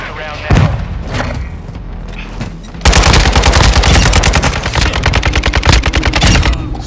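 Close, loud automatic gunfire in a Call of Duty MW2 multiplayer match on the Shoothouse map, with an AK-47 in play: scattered shots at first, then rapid rhythmic bursts of rattling fire, with voice callouts.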